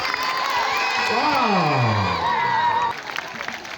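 Children cheer loudly at a school welcome ceremony for new sixth-form and second-year students. A dense crowd roar carries a long rising and falling whoop, then drops suddenly to a quieter murmur.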